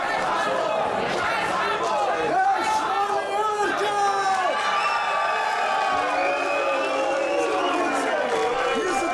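A wrestling crowd at a German Wrestling Federation show roars and cheers for a favourite in the ring: a loud, sustained wall of shouting, whooping and chatter with rising and falling voices throughout.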